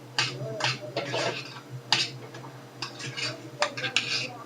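A utensil scrapes and clinks against a bowl while sauce is stirred into fluffy cooked rice, making an irregular run of close, sharp taps and scrapes.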